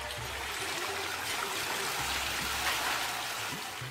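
Water runs and splashes steadily during the washing of silk yarn, a continuous trickling and gushing wash with low intermittent sloshes underneath.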